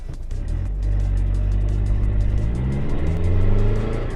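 A Mitsubishi Delica L300 van with added turbo boost accelerating hard from standstill to 80 km/h, its engine droning loud and close with steadily climbing revs and a gear change near the end.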